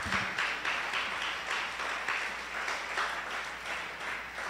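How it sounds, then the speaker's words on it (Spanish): A church congregation applauding during a sermon, sustained rhythmic clapping from many hands, steady and moderately distant throughout. "Denle un aplauso fuerte al Señor."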